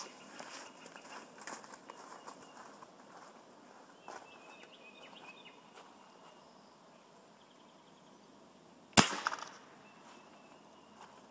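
A single sharp, loud gunshot cracks through an Xbox 360 controller after a stretch of quiet, faint shuffling and handling noises.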